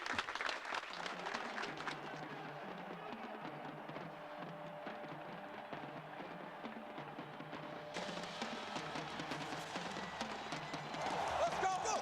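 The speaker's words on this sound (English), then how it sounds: "Give yourselves a round of applause." Crowd applause at a 1998 Minnesota Vikings football gathering: a steady, dense wash of clapping runs the full twelve seconds at moderate level, with a brief swell near the end and faint crowd voices mixed in.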